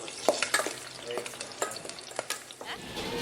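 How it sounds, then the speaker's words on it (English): Frying pans sizzle in a busy sandwich shop in Lima, Peru, a soft crackling hiss broken by sharp scraping and clattering clicks of utensils, faint and close, with no voices. "you can hear the sizzle of pans and orders being called from the street"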